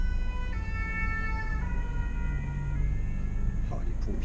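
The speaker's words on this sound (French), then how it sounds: "Oh, les pompiers. Voiture de pompiers." A fire engine siren wails through heavy traffic, its rising and falling tones loud and close over a steady rumble of car engines, holding for several seconds before beginning to fade.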